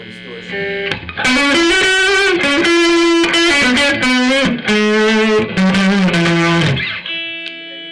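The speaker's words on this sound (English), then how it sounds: "of course, you turn it up, you're going to get more distortion." Electric guitar through a Marshall amp with the distortion turned up: sustained, heavily overdriven notes ring out loud and buzzy for several seconds, then fade into a softer held tone.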